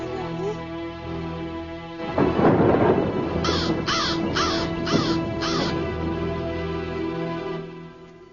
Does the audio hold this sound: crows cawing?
yes